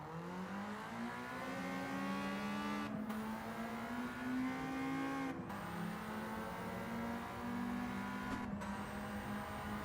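In a kei-class racing video game, a Daihatsu Copen engine revs high and steadily through short-shifted gear changes, each pitch climb broken by brief shift gaps, loud and continuous without speech.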